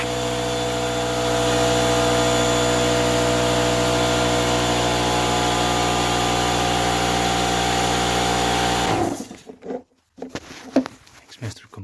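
A compressed-air blower hisses loudly and continuously into the spark plug well of a Lexus LS400 engine for about nine seconds, then cuts off, leaving short rustles and bumps.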